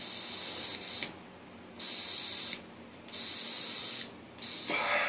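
Compressed air from a hose is blown into a 4L60E transmission shift solenoid in bursts, a close hiss that switches on and off three times with faint mechanical clicks at each change.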